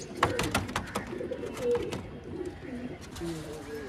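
A pair of Kagzi pigeons just released, giving soft, repeated throaty coos close by, with faint background sounds between the calls.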